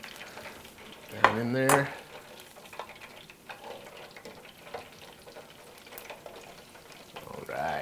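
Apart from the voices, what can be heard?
fries frying in oil for their second fry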